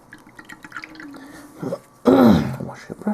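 A paintbrush is swished and rinsed in a small cup of water, a short burst of splashing close by that follows quieter dripping and a person speaking.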